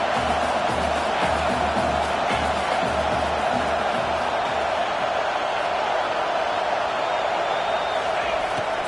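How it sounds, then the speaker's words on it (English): A football stadium crowd keeps up a dense, steady roar through a defensive fourth down stand, loud and unbroken from start to finish, with faint speech mixed into the wash. "This crowd busting the decibel meter and trying to will a fourth down stop."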